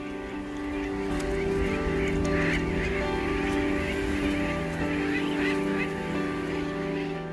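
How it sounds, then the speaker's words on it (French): Seabirds calling in a colony on Ascension Island, a steady dense chorus of honking, goose-like cries with many overlapping voices, loud and continuous throughout with a low background rumble. "Et peu à peu, les oiseaux marins sont revenus."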